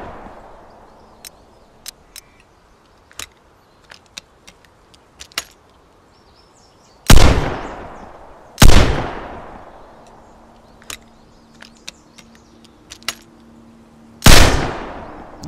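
A shotgun fires in the video game Vigor: four loud, booming blasts with decaying tails, the first two close together and the others spaced apart, between faint scattered clicks and handling noises.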